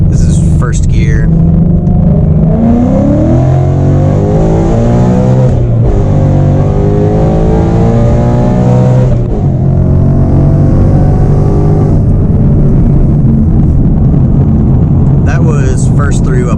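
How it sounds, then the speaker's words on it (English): A 2018 Mustang GT pulls hard in first gear without nitrous, its engine roaring loud and close with rising, steady revving that barely lets up, under a voice talking throughout. "Do a little bit of a pull here without nitrous, just so that you can get an idea. This is first gear."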